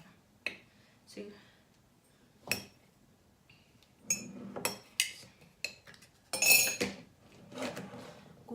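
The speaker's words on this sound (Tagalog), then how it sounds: "Hugas muna ako ng pinggan." Dishes and cutlery being washed clink and clatter in scattered bursts, close by, with quiet pauses between the handling sounds.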